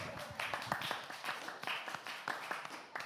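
A small group claps for about three seconds, with distinct individual claps rather than a dense roar, fairly close and moderately quiet.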